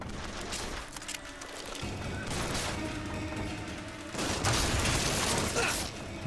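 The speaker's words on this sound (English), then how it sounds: "Who the hell is shooting me?" Gunfire in the video game Bioshock Infinite during a gondola skybattle: scattered shots and mechanical clanks, building to a louder burst of fire near the end.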